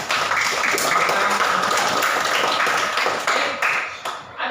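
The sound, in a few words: classroom applause, clapping for a student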